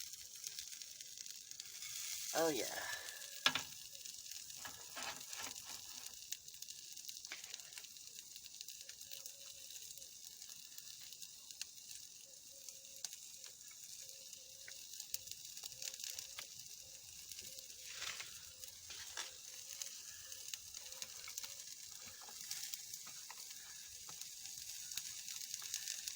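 Onions sizzling and frying in a hot pan, a quiet steady crackle lasting throughout, with a brief stir near the start and a short spoken remark.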